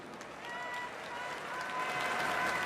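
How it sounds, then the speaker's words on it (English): An audience applauds a space research leader being introduced at an Ohio State event, broad steady clapping that swells slightly toward the end, with faint voices mixed in. "A round of applause for Dr. Horack, please."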